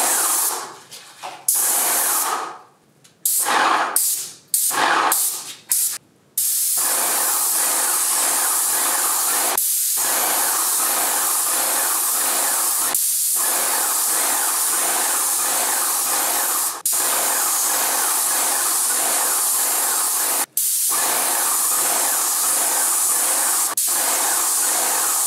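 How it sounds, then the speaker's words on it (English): An entry door gets a coat of white spray paint on its bottom section: a few short, sharp spray bursts open, then a steady, loud hiss runs almost unbroken with only brief pauses. "I'm gonna have to probably spray another coat of white on the bottom of this anyway"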